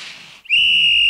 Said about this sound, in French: L'arbitre siffla.